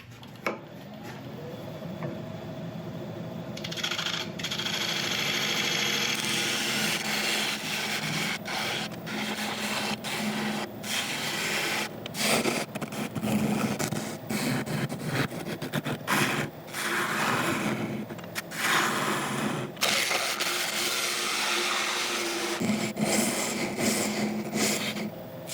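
Abrasive sanding on an oak burl turning spinning on a lathe, a steady broadband rasp that holds for the whole stretch, with the motor hum underneath and a few sharper scuffs where the paper catches.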